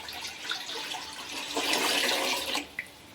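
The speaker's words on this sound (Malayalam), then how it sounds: "അതിലോട്ട് നമുക്ക് രണ്ടര ലിറ്റർ വെള്ളം ഉണ്ടല്ലോ അതൊന്ന് ഒഴിച്ചു കൊടുക്കാം" About two and a half litres of water are poured into a pot on a stove, a close, steady rushing splash that swells midway and then stops abruptly with a final drip.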